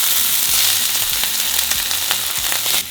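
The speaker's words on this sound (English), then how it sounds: "once our oil is ready, we're going to throw in our onions" Chopped onions and jalapenos sizzle steadily in hot oil in a frying pan, a dense, close crackling hiss with occasional soft knocks and no talking.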